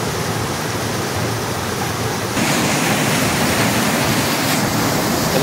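Water pouring steadily at a monsoon-season waterfall near a barrage on a rural road trip, a dense, continuous rushing roar that swells louder partway through, with no voices.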